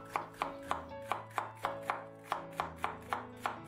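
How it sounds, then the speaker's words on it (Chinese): A knife slices bitter melon into thin slices on a cutting board. About a dozen crisp, evenly spaced chops sound close and clear, each with a short board knock, over faint background hum. "再把苦瓜切成薄片"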